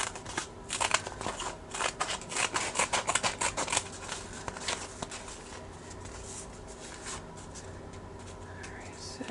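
Scissors snip and trim fabric for glitter rainbow fabric beads, giving a run of close, crisp cutting and rustling sounds in irregular bursts that fade into quieter handling toward the end.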